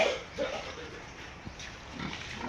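Pigs being sold as fattening stock grunt and oink at a farm in short, scattered bursts against a steady noisy background, with no talking.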